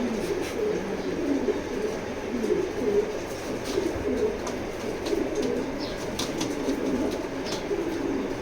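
Racing pigeons coo softly and continuously in a loft, a low rolling murmur of several birds with faint clicks and rustles in the background.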